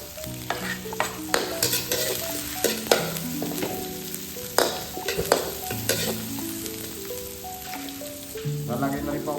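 Ginger, garlic and onion sizzling and frying in a pan, with repeated stirring scrapes across the pan, while music plays in the background.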